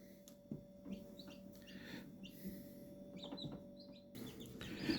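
Several newly hatched chicks peep inside an egg incubator, short high chirps scattered irregularly over a steady low mechanical hum, close and moderately loud.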